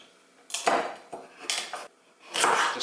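Santoku knife chipping away at pumpkin pieces on a cutting board, giving three separate bursts of crisp chopping and knocking against the board with short pauses between them, close and fairly loud, no talking.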